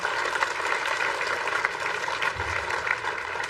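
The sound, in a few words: audience applause at a university ceremony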